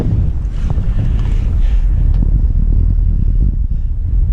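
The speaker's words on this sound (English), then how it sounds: "You can see there's 16 knots of apparent wind." Wind buffets a sailboat at sea with about 16 knots of apparent wind, a loud, constant low roar and rumble of gusts against the microphone, with faint water wash underneath.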